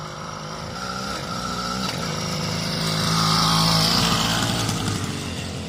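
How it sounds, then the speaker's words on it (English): A small engine on a motorized bicycle runs steadily while a rider tries it out, a buzzing drone that swells louder as the bike passes nearby and then eases off slightly, with no talking. "This is my dad trying out the bicycle."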